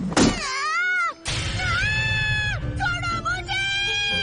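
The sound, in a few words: child imitating a cat's meow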